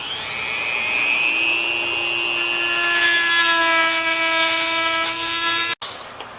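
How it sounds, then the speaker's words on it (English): A Dremel rotary tool cuts through a fiberglass corner on a boat with a loud, close, high-pitched whine. The pitch climbs and holds steady, then cuts off abruptly and leaves a brief quieter tail. "we're going to use the Dremel to remove some material around the corner"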